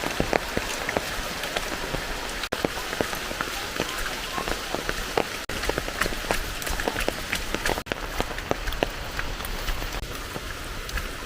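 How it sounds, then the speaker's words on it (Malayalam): Heavy rain pours down around a house in Enthayar, a dense, continuous hiss of countless drops drumming on surfaces, loud and unbroken throughout. "നല്ല മഴയാണ്."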